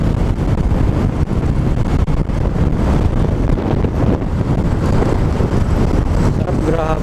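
Honda Click 125i scooter running flat out at top speed on a road, heavy wind buffeting and broadband engine and road roar filling the whole stretch, loud and steady throughout.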